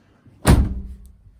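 A storage cabinet door swings shut once with a single loud, close thud that rings briefly and fades, in a garage holding a road bike and gear storage trays.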